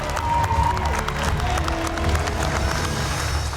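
Former MasterChef Canada contestants cheer and applaud on a cooking competition set, a dense burst of clapping and whoops from a close crowd.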